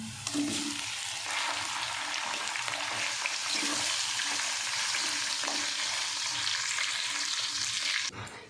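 Chicken pieces frying in hot oil with cinnamon, black pepper and star anise for Sindhi biryani, a dense continuous sizzle close by with occasional stirring, cutting off abruptly at the end, no voices.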